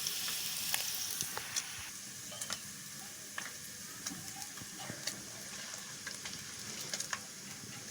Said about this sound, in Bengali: দেখো তো কী সুন্দরভাবে ভেজে নিচ্ছি আর কত সুন্দরভাবে ভেসে উঠেছে তেলের সাথে